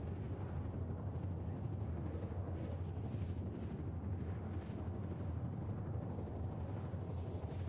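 A spacecraft quantum drive in the Star Citizen video game, a loud continuous deep roaring rumble with a rushing, surging texture that holds steady throughout.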